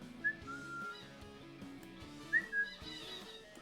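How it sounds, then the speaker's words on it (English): Someone close by whistles two short, faint high notes, once near the start and again after a couple of seconds, over quiet background game music. "Or if I whistle."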